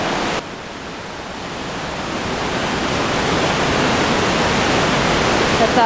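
Powerful waterfall fed by snowmelt, pouring from a cave in a cliff in Lebanon, a steady broadband roar of rushing water that swells slightly louder and fills the whole clip without talk.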